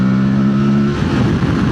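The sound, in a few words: motorcycle engine accelerating after downshift while cornering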